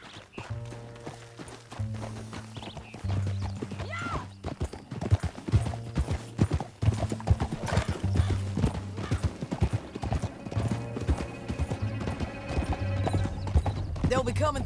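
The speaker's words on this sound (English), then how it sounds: "Back on your horse. Let's get after them." Horse hooves clip-clop at a fast gallop in Red Dead Redemption 2, a steady rapid rhythm running through the whole stretch, loud and close under game music, with a brief whinny.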